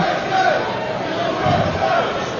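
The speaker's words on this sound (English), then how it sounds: "The crowd starts to shout USA, try to motivate their fighter, Reggie Johnson" Boxing arena crowd during a fight, a steady roar of many voices, with a swelling chant partway through, loud and filling the space with no single voice standing out.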